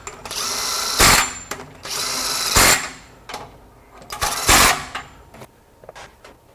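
An impact wrench runs fasteners back on in several short, sharp bursts with pauses between them, loud and close in a shop.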